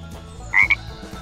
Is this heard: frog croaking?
yes